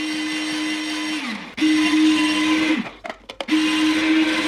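A food processor whirs loudly as it slices courgettes into thin rounds, running in steady bursts with a brief pause and some clattering in between, then starting up again.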